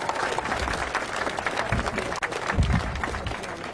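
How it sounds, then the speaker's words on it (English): A rally crowd at a Washington protest against police brutality applauds steadily, with dense clapping and a few cheers throughout. "Give yourself a round of applause for coming out today."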